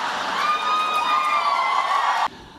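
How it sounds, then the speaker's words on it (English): A large corporate-event audience cheers and applauds loudly, a dense wash of whoops and shouts that cuts off abruptly near the end. "Never gotten quite such an applause before."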